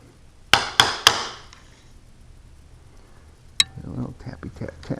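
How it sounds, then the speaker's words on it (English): Three sharp knocks on a large oak wood piece in quick succession, close and crisp with ringing tails, then a single tap and softer clicks as a voice talks quietly. "Maybe a little more tappy tap tap right here."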